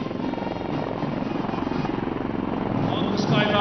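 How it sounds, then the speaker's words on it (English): Military helicopters of the 603 Independent Aviation Brigade approaching in an Army Day flypast, a steady pulsing rotor drone under a commentator's voice. "helicopters of 603 Independent Aviation Brigade are approaching the saluting lines"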